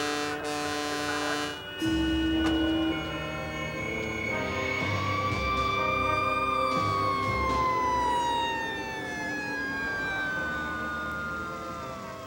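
A fire engine siren answers an alarm near a firehouse, wailing loudly and continuously with slow rising and falling pitch sweeps over a steady low rumble, with no voices.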